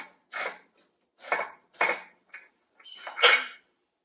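Knife chopping fresh ginger on a cutting board for pickled peppers and carrots, five or six close, clattering strokes in an uneven rhythm with short pauses between them.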